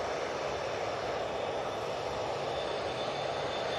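A propeller aircraft engine at Manchester Airport, a steady loud droning roar with a broad hiss, sustained without breaks and no voices over it.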